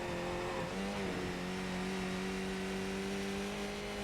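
A Skip Barber Formula 2000 race car accelerates at full throttle on track, its engine note steady and rising out of a corner, loud and close, with constant wind and road roar.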